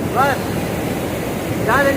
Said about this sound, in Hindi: ये देखिए जबरदस्त पानी का बहाव।